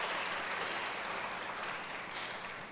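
Applause from an audience at a public hearing on mental health, a dense, even patter of clapping that fades slightly toward the end, no speech over it.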